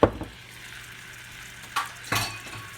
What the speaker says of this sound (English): And you cook this butter and flour so you get a nice roux.